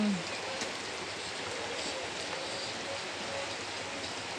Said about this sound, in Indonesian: Hujan gerimis.